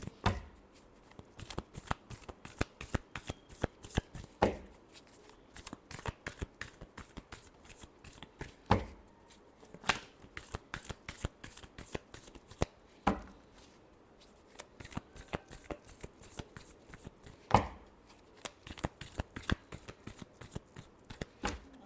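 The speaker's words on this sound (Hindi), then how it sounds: "last shuffle" A deck of tarot cards is shuffled over and over, quick riffling bursts that repeat in a steady rhythm with short gaps, close up and crisp, with no talking.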